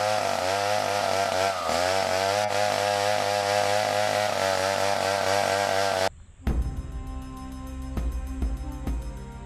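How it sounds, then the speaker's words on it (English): A chainsaw buzzes loudly and continuously as a man cuts a tree branch he is sitting on. The engine cuts out after about six seconds, leaving quieter rattling sounds. "As adept as this man is with a chainsaw, he is not aware he is sawing away at the branch he's sitting on"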